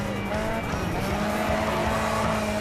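Car drifting in the racing video game Grid 2, a steady engine roar with long sustained tire squeal throughout, loud and continuous, with a voice talking faintly underneath.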